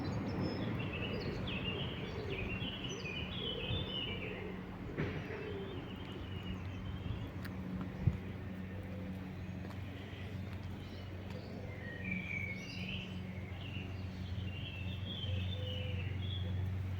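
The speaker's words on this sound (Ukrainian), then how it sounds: "Ох і співучі пташки в Кракові." Several songbirds chirp and twitter on and off outdoors in a garden in Kraków, fairly faint, over a steady low background rumble.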